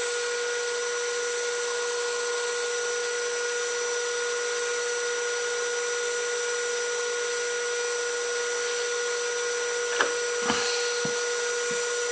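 A lathe turns a 2 inch metal pin down toward 40 mm for a mini excavator, giving a steady, tonal machining whine with a few sharp ticks and clunks near the end, no voices.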